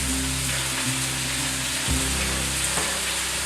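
Swiss chard sizzles steadily in olive oil in a pan, a constant close frying hiss with a brief stir or shift of the greens partway through.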